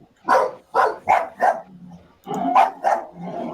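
A dog barks in short bursts, four quick barks, then a pause and a low growl, then three more barks, close and fairly loud with no talk over them.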